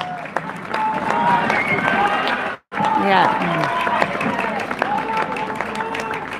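A live crowd at a martial arts fight event between Australian and Portuguese fighters cheers and applauds in a continuous roar, with voices talking over it and a brief drop to near silence midway.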